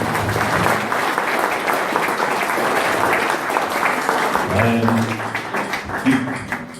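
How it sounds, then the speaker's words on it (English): A room full of people breaks into a round of applause, dense steady clapping that continues for several seconds before thinning out as voices emerge near the end. "it'd be great if we could have a round of applause for that one tomorrow"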